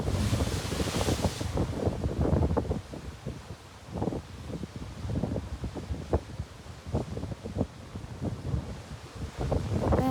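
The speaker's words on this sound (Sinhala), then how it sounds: "මේ දවස්වල රැල්ල සැර වැඩි." Rough sea off the Hambantota harbour area, with strong waves surging and breaking in repeated bursts under steady wind buffeting the microphone, loud and close throughout.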